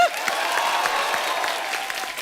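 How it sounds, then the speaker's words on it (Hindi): A studio audience on The Kapil Sharma Show applauds in a steady, even stream of clapping from many hands, with faint crowd murmur beneath. "पहले तो इसके लिए तालियां हो जाएं।"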